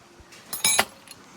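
Metal wrenches and pullers clink together as they are picked up and handled, a short cluster of bright jangling taps, close and fairly clear, lasting under a second in a quiet room.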